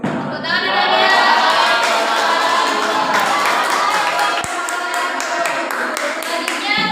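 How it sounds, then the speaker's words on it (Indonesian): A classroom audience claps together after a student group finishes its presentation, a dense, sustained patter of many hands with a few scattered louder claps, close and fairly loud, with a murmur of voices underneath. "Tepuk tangan adanya."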